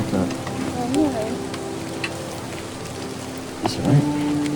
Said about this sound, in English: That rain's starting back up.